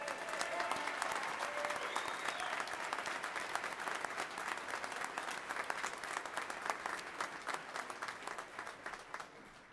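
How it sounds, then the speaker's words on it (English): Sustained applause from a graduation audience, dense and steady, with no talk over it, fading slightly toward the end. "So let's give her a round of applause."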